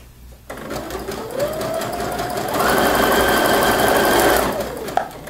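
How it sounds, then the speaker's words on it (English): A sewing machine stitches a zigzag stitch, starting abruptly with a whirring motor and rapid needle clatter that rises in pitch and speed midway, then ends with a soft click. "And then go back to stitching."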